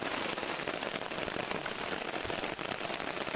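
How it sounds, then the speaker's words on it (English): Heavy rain pours onto a camp tarp in a dense, continuous patter of drops, close and fairly quiet, with no one talking. "it is pouring down rain"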